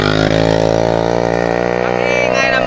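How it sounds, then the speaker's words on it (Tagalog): A motorcycle engine drones loudly and steadily nearby, a continuous buzzing hum with little change in pitch throughout. "Ang ingay ng motor, oh."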